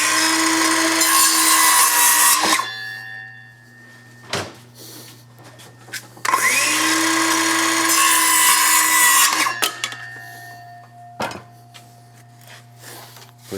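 A power saw cuts wooden laminates to length for deck beams in two long, loud passes, with sharp knocks and clunks as the boards are handled and set down between and after cuts.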